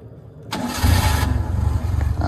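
An old car's engine cranks with a brief starter whir and catches, then settles into a loud, rough, pulsing idle close by, with no talking.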